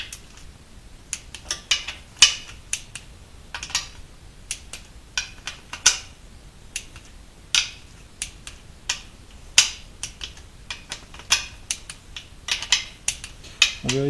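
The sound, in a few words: torque wrench tightening Chevrolet TH 350 transmission bolts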